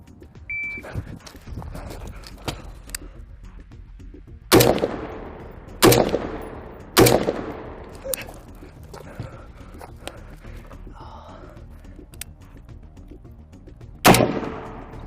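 Shots from a rifle fitted with an LPVO and from a pistol fire outdoors on a range. Several loud, sharp reports are spaced seconds apart, some with a ringing decay, along with quieter clicks and handling noise.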